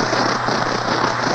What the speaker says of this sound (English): Rain is coming down just a little bit harder.